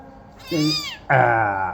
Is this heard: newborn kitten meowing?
yes